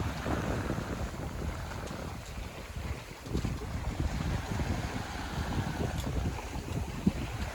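A sailboat running downwind up the Chesapeake Bay on a breezy day with a reefed sail: continuous wind rush buffeting the microphone over water swishing along the hull, steady and fairly loud throughout.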